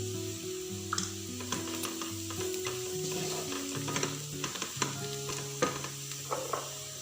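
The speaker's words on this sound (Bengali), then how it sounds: "নেড়ে নিয়ে দেবো এটাকে" Chicken being stirred in a frying pan with Kashmiri chilli powder, a steady close sizzle under repeated scraping and clinking of the spoon against the pan, with no talk.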